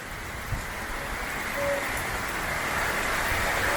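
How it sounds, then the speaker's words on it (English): Heavy rain pours down during Hurricane Ian in the Caribbean, a steady, dense hiss of downpour that holds even and loud throughout, with no voices over it. "Whole heap of rain and weather in the place you know."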